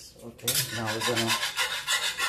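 Tomato and egg scramble being stirred in a pan, a close, steady scraping and rasping that repeats in quick rhythmic strokes for a couple of seconds.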